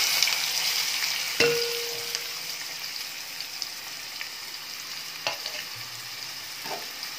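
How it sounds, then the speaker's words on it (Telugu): Chopped onions and green chilies sizzle steadily in hot oil in a pan, close and continuous, with a few sharp clinks and scrapes of stirring. "దాంట్లో కట్ చేసి పెట్టుకున్న ఉల్లిపాయ ముక్కలు, పచ్చిమిరపకాయ ముక్కలు వేస్తున్నామండి."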